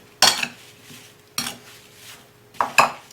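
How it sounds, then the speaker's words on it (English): A utensil scrapes and knocks around a bowl while apple pie filling is mixed with lemon juice, in a few separate close bursts with quiet gaps between. "slowly mix all of these ingredients together"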